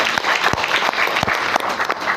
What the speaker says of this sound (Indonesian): Tepuk tangan untuk guru-guru